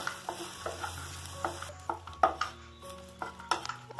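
Chillies cut in half fry in a pan for a Kerala chammanti, a low, steady sizzle broken by irregular scrapes and taps of a spoon against the metal, close but quiet.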